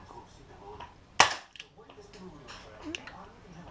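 An Artemis CP400 air rifle firing an H&N pellet during chronograph testing gives one sharp, loud close crack, followed by faint mechanical handling clicks and quiet background sounds.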